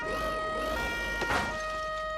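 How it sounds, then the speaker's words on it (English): A steady electronic emergency vehicle siren in the video game BeamNG.drive wails on and on, tone sliding up and down, with a brief louder burst in the middle; no voices. "Sirens, please shut up."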